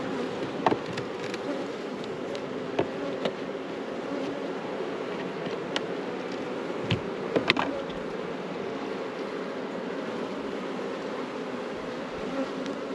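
Honeybees from a new colony hum in a steady, close drone around a hive frame, with a few brief knocks and clicks from handling the frame.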